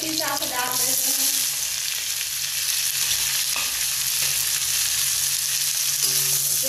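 Cumin seeds, green chili and chopped onion frying together in hot oil in a pan for a Bihari-style mutton curry, a steady dense sizzle with occasional spoon stirring scrapes, close and continuous.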